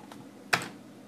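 A single sharp keystroke on a computer keyboard while entering a Linux command on a Raspberry Pi, one brief close click against a quiet room.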